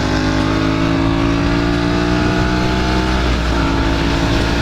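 A big truck drives past on the road, heard from inside a travelling vehicle as a loud, steady engine drone with a tone that slowly drops and then shifts, over continuous road rumble.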